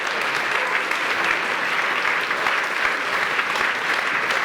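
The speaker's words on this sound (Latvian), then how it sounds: "Jā, aplausi" Sustained applause from an indoor audience at a talk or presentation, dense and even clapping at steady loudness throughout, with no voices standing out.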